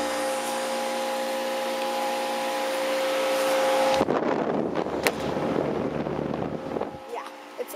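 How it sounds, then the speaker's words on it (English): A 1995 Lennox 4-ton air conditioner with a noisy Copeland reciprocating compressor runs outdoors as a steady tonal hum, then gives way to a broadband whoosh with light knocks before the hum returns near the end. "It's got a Copeland Reciprocating Compressor. It's a noisy reciprocating compressor."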